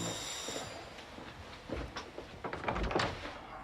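A door is opened: soft handling noises build into a few louder clunks and rattles near the end, close by with no talk.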